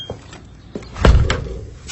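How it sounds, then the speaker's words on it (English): A door shutting with a solid thunk, preceded by fainter handling knocks, in a Knight Transportation truck cab as its alarm is armed; a single close slam near the mic, with no talk over it. "Close the door."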